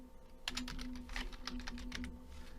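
Computer keyboard typing as a spreadsheet formula is entered in Excel, a quick run of soft, close keystrokes in an uneven rhythm over a low steady hum.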